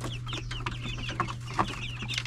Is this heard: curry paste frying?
no